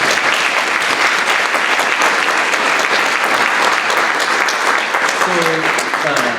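An audience gives a loud, sustained round of applause for a lecturer, dense clapping throughout, with a voice beginning to speak over it near the end.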